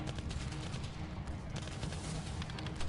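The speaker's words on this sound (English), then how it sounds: "all the gunfire seems to be coming from inside" Dense, distant gunfire crackles in a continuous muffled barrage, with rapid overlapping bursts heard faintly at low level.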